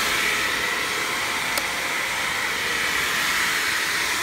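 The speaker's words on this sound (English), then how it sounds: "It is a belt-driven motor." A belt-driven motor on an Elumatec MGS 72/30 saw makes a steady, broad hiss-like whir that holds at a constant level throughout, with one brief tick partway through and no voices.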